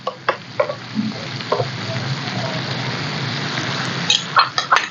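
Bamboo shoots and fresh shrimp stir-fry in a pan with a continuous sizzle, while a utensil scrapes and clinks against the pan in scattered bursts close by.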